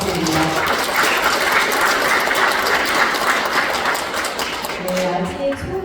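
Applause from a lecture audience after a talk by a lawmaker, a full, steady clatter of many hands close by with faint voices mixed in toward the end.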